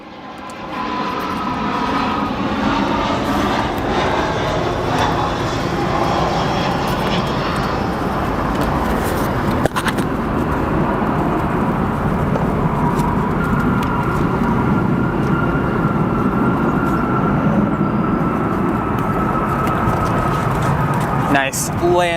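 Airliners landing and taking off at the same time at O'Hare International Airport, a loud, steady engine roar that holds for over twenty seconds while a voice talks over it.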